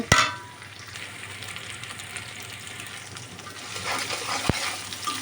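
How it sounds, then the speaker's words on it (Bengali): Chopped onions and ginger-garlic paste frying in a pan for a beef jhura dish, a continuous close hiss and crackle holding steady throughout. A couple of sharp utensil clicks come at the start and near the end, with no voices. "এবার পেঁয়াজ কুচি দিব একটু ভেজে নেব"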